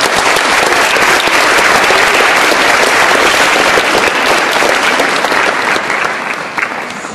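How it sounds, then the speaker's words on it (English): A large audience applauds delegates at a Model United Nations event in Geneva, dense loud continuous clapping that holds steady, then eases slightly near the end. "deserve a big hand of applause from the teachers, the parents, and the leaders"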